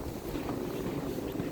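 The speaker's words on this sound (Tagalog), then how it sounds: "Sound ng hangin." Cold wind blowing steadily through a snowy winter storm at night, a constant low rushing roar with buffeting against the microphone and no voices.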